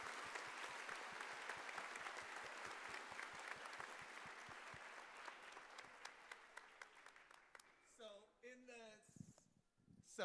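Applause from families and guests at a middle school culmination ceremony, steady and full at first, then thinning out as a few people start talking near the end.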